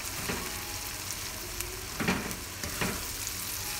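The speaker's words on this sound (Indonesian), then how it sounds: "Ditumis sampai benar-benar mateng bawang dan cabenya." Onions and chilies frying in hot oil mixed with tomato juice for sambal teri, a steady close sizzle with a few soft stirring scrapes over it.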